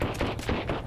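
Enemy gunfire in the Sunkenland video game during a raid on a marauder base: a rapid burst of several sharp shots in quick succession, loud and close, with no talking.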